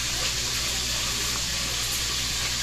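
Steady stream of water poured into a measuring cup while making kutsinta, a continuous close splashing gush with no pauses.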